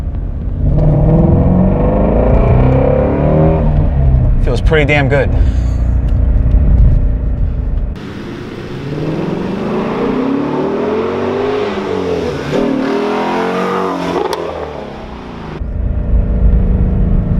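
Shelby GT350 5.2 liter flat plane crank V8 pulling hard, loud engine growl climbing through revs with a brief shift break midway, then surging again, while someone talks over it.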